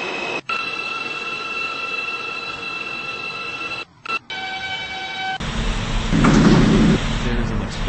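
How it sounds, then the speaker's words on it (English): An express train rolls toward a station platform, its rumble building steadily with ringing, squealing wheel tones and a louder rush near the end; no talk. "There is an express train approaching the station."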